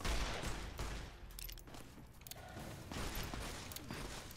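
Weapon fire in Fallout: New Vegas, with several sharp bursts of shots and mechanical clatter that fade and return, fairly faint overall.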